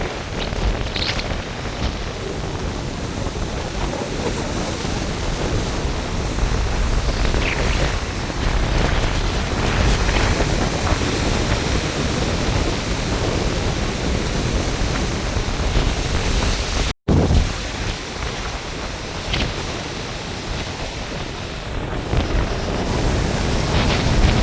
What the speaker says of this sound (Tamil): அப்படி கடல் கொந்தளிக்க பாருங்க